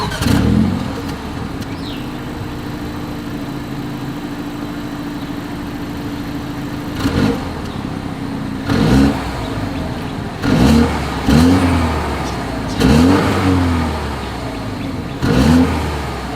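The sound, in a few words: SUV dual exhaust engine revving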